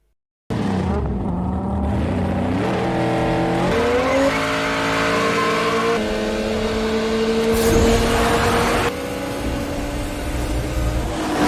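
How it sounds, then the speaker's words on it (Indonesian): Race car engines roar loudly during a street race in the film Fast & Furious, pitch climbing through repeated gear shifts, with a short tire squeal near the end. "Brian dan Dom beradu kecepatan"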